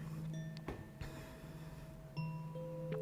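Chimes ring during a quiet pause in a global group gathering, with a few bright sustained tones struck at intervals over a soft low hum, fairly faint.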